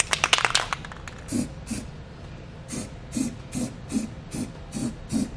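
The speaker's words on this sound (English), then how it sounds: "just take some clear spray paint and put it on that bare metal just to help prevent any rust." Clear spray paint hisses onto bare metal of a Subaru Legacy frame while a trailer hitch is being fitted, in a series of short bursts repeated steadily after an initial longer spray, close and moderately loud.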